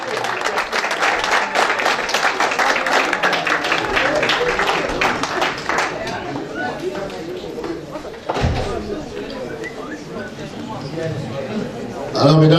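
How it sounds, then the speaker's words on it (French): Audience applause and cheering greeting the arrival of the president at a 2013 end-of-year ceremony in Turkey, a loud sustained crowd roar with clapping that gradually eases, a thump near the end, and talk mixed in. "je vais vous prier de vous mettre debout pour acclamer l'arrivée du président"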